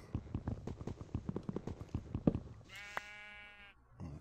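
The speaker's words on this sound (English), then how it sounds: "So there's the sheep" Footsteps patter rapidly before a single sheep lets out a clear, wavering bleat in the Minecraft video game, close and moderately loud with no talk over it.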